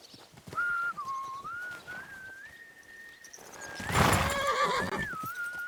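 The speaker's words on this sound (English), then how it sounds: "What are you whistling for?" Whistled tune from a rider, a sustained melodic line wavering up and down, alongside a horse's whinny and steady clip-clopping hooves in Kingdom Come: Deliverance II.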